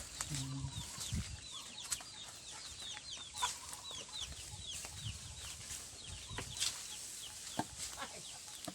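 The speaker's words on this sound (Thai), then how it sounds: "อันนี้ไก่ไก่บ้าน ไก่อะไรไก่แจ้ไก่บ้าน ไก่แจ้ครับไก่แจ้โอ้มีทั้งไก่แจ้ไก่บ้าน" Bantam and domestic chickens cluck on a small farm, a busy mix of repeated short clucks and chirps at moderate distance, with occasional thumps and a brief wing flap, fairly quiet overall.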